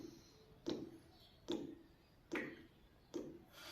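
Clay handi pot sitting still during a ritual, giving four sharp evenly spaced knocks or ticks about once every 0.8 seconds, each with a short ringing decay, in a quiet room.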